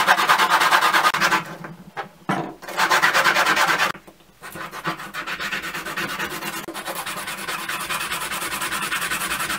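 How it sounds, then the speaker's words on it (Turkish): Plastic capsule keychain lids rubbed smooth with sandpaper, their inner cut edges and embossed brand logos worn off; steady close raspy scraping strokes with two brief pauses, no talking. "İki kapağın da iç taraflarını, kestiğim taraflarını ve üst taraflarındaki markasını, marka logosunu zımparalayacağım."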